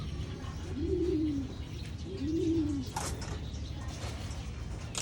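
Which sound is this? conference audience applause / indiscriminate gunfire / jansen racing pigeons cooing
jansen racing pigeons cooing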